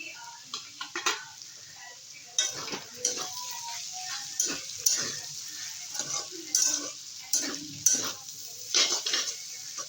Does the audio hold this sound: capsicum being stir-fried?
yes